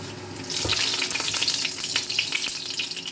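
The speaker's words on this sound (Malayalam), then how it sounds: "നമുക്ക് നമ്മൾ ചൂടായ എണ്ണയിലോട്ട് ഇട്ട് കൊടുക്കാം." Crushed cinnamon, cloves and cardamom hit hot oil and burst into a loud, continuous sizzle that crackles close by with no voices over it.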